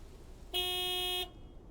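A white pickup truck's horn in the video game Lake gives a single sustained honk of about three quarters of a second, bright and clear against a quiet background.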